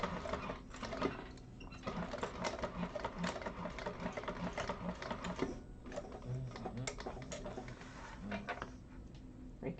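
A sewing machine stitches a leather wallet in a class setting, its rapid mechanical tapping running steadily and close for the whole stretch, with brief pauses and low talk or handling noise mixed in.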